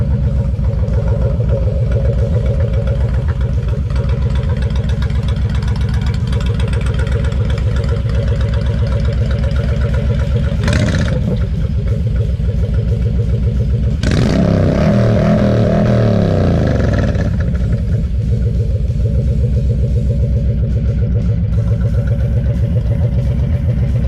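A 2012 Honda Sabre 1300 motorcycle with its exhaust baffles removed, idling loud and steady close by with a deep rumble and two brief revs, no talking.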